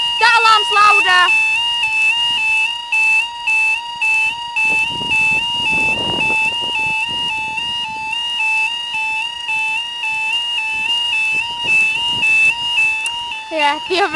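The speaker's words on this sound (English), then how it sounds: "That alarm's louder." Level crossing warning alarm at West Dyke Station in Yorkshire, a loud steady two-tone electronic wail sounding continuously, with people talking briefly over it.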